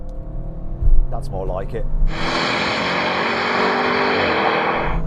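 BMW M5, Audi RS6 and AMG E63 S launch together in a drag race on a track: after a brief spoken remark, a loud, broad engine roar bursts in and holds steadily, rising slightly in pitch as the cars pull away.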